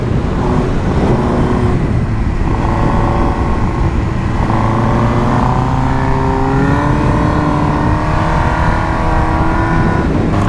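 A customized Suzuki GSX-R 1000 motorcycle being ridden, its engine a loud, continuous close drone that rises and falls as the revs climb and shift.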